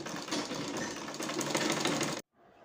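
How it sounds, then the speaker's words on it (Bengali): A sewing machine stitches the waistband belt of a bra, keeping clear of the elastic, in one loud, steady run of rapid mechanical chatter for about two seconds before stopping abruptly, leaving faint quiet. "কোমরের যে বেলটা আছে সেটা সেলাই করে নেব।"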